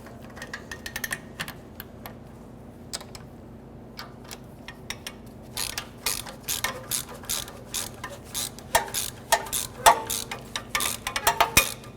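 Ratchet tightening bolts on a rear catalytic converter of a 2006-2013 Chevy Impala, heard as bursts of close, sharp clicking that quicken and grow louder over a low background hum.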